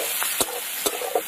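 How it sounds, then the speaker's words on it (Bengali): Chopped onion fries in hot oil with nigella seeds, giving a steady close sizzle broken by a few sharp stirring or spatula scrapes. "কুচনো পেঁয়াজ ভেজে নেব, দিয়ে দেবো কালো জিরে এর মধ্যে"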